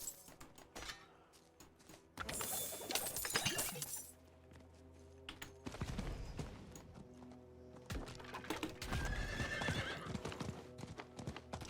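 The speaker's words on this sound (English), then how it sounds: "The horses are working a little bit better than they were last season" Horse hooves clip-clop at a steady gallop in Diablo 4 with a whinny, mixed with spell effects, shattering and clinking game sounds throughout.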